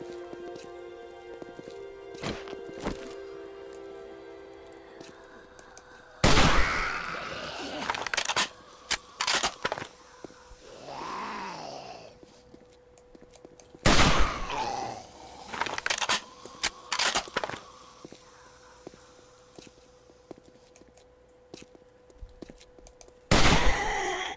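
Gunshots and a weapon reload in the survival game 7 Days to Die, Alpha 13: several loud, sharp broadband blasts spaced seconds apart, with quieter mechanical clicks and game ambience between them.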